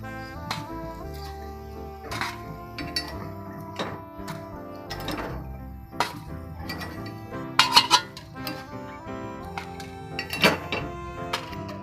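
Green gram kuzhi paniyaram lifted one by one out of the hot paniyaram pan, with repeated metallic clinks, taps and scrapes of utensils against the pan at an uneven pace, close and fairly quiet with no talk.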